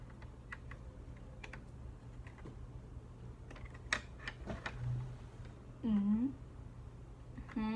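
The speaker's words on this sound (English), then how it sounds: "I'm just going to add in the space bar right now to see how it sounds." Keystrokes on a newly built custom keyboard with its space bar just fitted, a sparse run of light clicks and taps, some louder than others, with a brief background sound in the middle.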